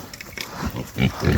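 Pigs squeal in short loud bursts as they take an electric fence shock and push through, the cries rising toward the end, with a voice exclaiming nearby.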